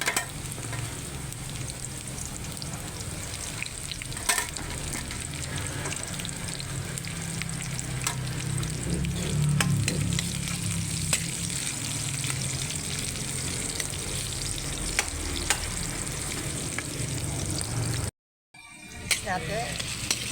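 Garlic, ginger and onion sizzle steadily in hot oil in a pan for Filipino sarsiadong tilapia, a close, continuous frying hiss with faint stirring that cuts out briefly near the end.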